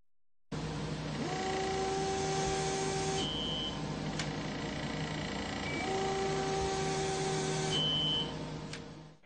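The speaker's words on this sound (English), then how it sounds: "A beep indicates the end of one cutting cycle." An ATEC MRI-guided breast biopsy handpiece whirs through its cutting cycle with a rising mechanical tone, ending in a short high beep; the cycle repeats, so two beeps are heard.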